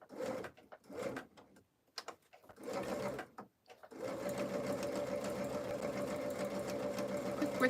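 A sewing machine stitches a placemat, starting with several short bursts separated by pauses, then speeding up into a steady, continuous run along a straight seam, close and fairly quiet.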